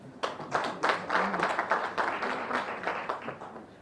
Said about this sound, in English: A hand of applause for her.